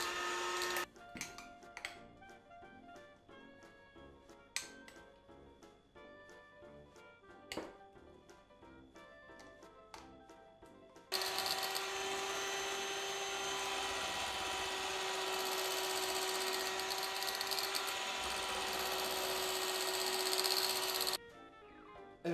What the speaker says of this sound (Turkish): Blender'ın karıştırıcı kısmı en alta kadar gitmediği için daha küçük bir kavanozda karıştırmaya devam ediyoruz.